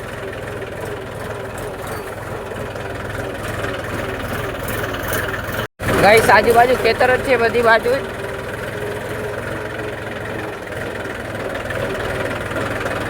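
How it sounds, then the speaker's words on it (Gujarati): A loaded farm tractor rumbles steadily as it jolts slowly along a potholed, bumpy road between fields. The engine swells into a louder, rattling burst after a brief drop, and someone talks over the engine noise. "ટ્રેક્ટર ઠેકડા મારી રહ્યું છે"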